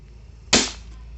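A single sharp crack from a D'cobra M159 spring airsoft gun, close and abrupt, over a faint low background hum.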